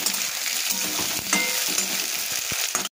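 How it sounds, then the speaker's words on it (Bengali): Potatoes and onions frying in a pan give a dense, steady sizzle throughout, with occasional stirring scrapes and light knocks close by. "এবার আলু আর পেঁয়াজ আমি খুব ভালো করে ভেজে নেব"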